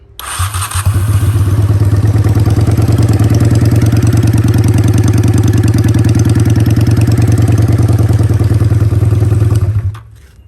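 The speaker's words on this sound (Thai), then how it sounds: "ตาร์ทง่ายนะครับ ไม่ต้องทำอะไรกดปุ่มอย่างเดียว" A Honda Steed 400 Custom motorcycle engine fires up and settles into a steady, loud, close idle with an even low throb that runs for about nine seconds before cutting off.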